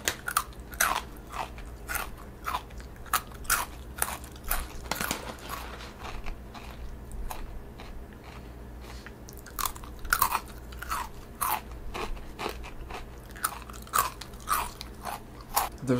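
Someone bites and chews dense cylinder-shaped snacks, with loud, close crunches in a steady rhythm of sharp bites and no talking.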